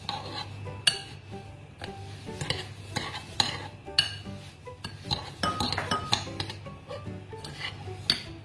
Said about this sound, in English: I need to mix it well.